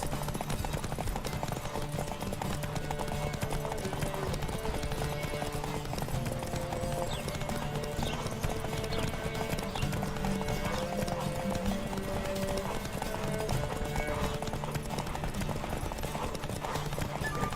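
A horse gallops steadily during a race in the video game Witcher 3: Wild Hunt, its hooves drumming in a continuous rhythmic clip-clop. The hoofbeats sit within a dense, constant layer of game sound and music.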